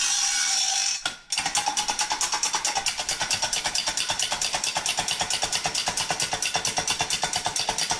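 An old bumper jack ratchets with a rapid, even series of metallic clicks that starts after a brief pause and runs steadily to the end, loud and close, with no talk.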